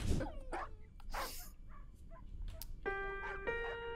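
A cartoon dog whimpers and yips in short, high, plaintive cries, with a sustained tonal chime ringing in toward the end, all heard fairly close and without talk.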